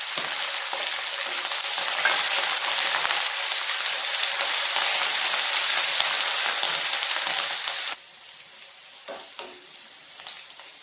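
Dried red chillies and fresh curry leaves fry in oil for pickle, giving a dense, loud, close crackling sizzle for about eight seconds, which then drops to a quieter hiss with a few scattered pops.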